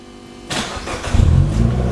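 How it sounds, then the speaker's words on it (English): Engine of an Abarth X1/9 sports car cranking over with a starter whir, then catching and settling into a loud, throaty, uneven idle close by. "and the engine cranks, and there we go."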